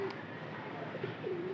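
A pouter pigeon gives soft, low, rolling coos up close, a short quiet murmur over faint room noise.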